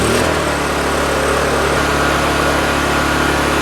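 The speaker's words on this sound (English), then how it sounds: "Once the engine is started, turn the choke off and allow the engine to run for 5 minutes." A Honda EU2 portable generator runs steadily after starting with the choke off, a loud, close, continuous engine drone with a constant pitch and no pauses.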